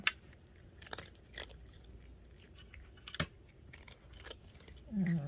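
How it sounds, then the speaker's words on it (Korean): A cat bites into and chews a piece of apple, giving a series of close, crisp crunches spread irregularly over a few seconds in an otherwise quiet room. "아이고 맛있는 소리가 삭삭삭 나네"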